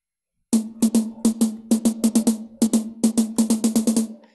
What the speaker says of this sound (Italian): Questo è uno snare da marcia.